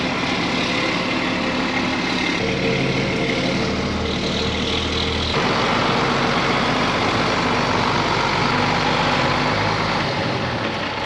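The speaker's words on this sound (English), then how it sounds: "pretty good at backing that truck up, I gotta say" A truck backing up on a farm, its engine idling and rumbling steadily close by, with shifts in pitch as it moves and no voices over it.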